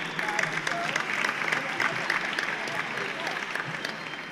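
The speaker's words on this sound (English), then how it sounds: "So let's give our panel a round of applause again." An audience at a conference session on a Black cooperative agenda applauds a panel, dense steady clapping lasting throughout at moderate distance, with no distinct voices over it.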